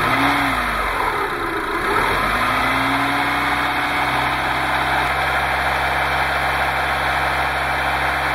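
Car engine held at a steady 2,000 RPM while driving an alternator, a loud continuous hum with harmonic tones that sweep up early on as the revs rise, then settle into an even drone.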